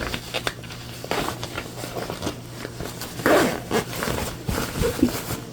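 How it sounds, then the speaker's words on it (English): A zipper on a freshly sewn wet bag is pulled fully open through the turning hole, giving a run of close, scratchy rasps and tugs along with some fabric handling. "We're gonna open our zipper fully."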